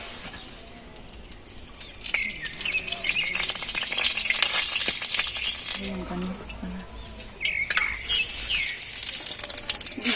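Oil heats in a wok in a home kitchen, hissing and sizzling steadily, with clattering utensil clinks and scraping throughout and brief bursts of louder spattering.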